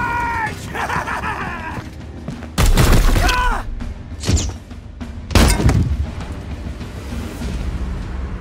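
Weapons firing in the Warhammer 40,000 Chaos Gate Daemonhunters video game: two loud booming blasts with crackling tails and a smaller thud between them, over quieter game ambience and brief voice lines.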